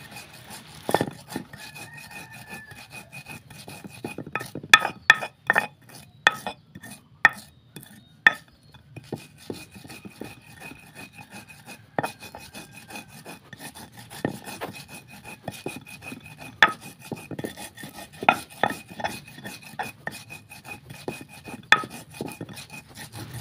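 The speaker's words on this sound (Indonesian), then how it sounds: "itu aku mau haluskan tumbar ya teman-teman" Coriander seeds are pounded in a mortar, producing irregular sharp knocks and scraping grinds at close range in a quiet kitchen, with uneven pauses between strikes.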